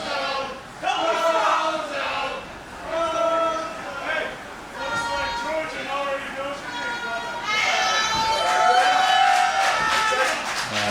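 Crowd at a grappling event yelling and cheering, loud, overlapping shouts and voices rising in bursts, with commentators talking over the noise.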